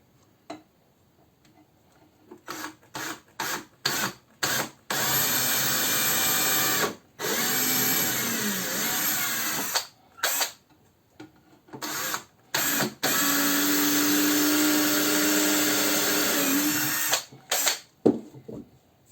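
Power drill boring a second hole into wood for a spice niche in a woodworking class, running in several sustained bursts of a few seconds each, separated by short stops and clicks, close and loud.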